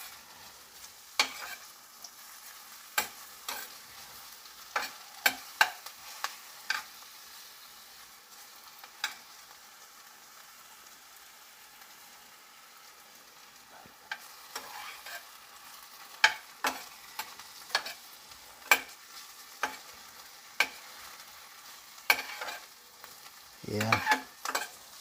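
Chopped garlic and whole onion stir-frying in a pan of oil, with close scraping stirs and intermittent spatula clicks over a low, steady sizzle, no talking.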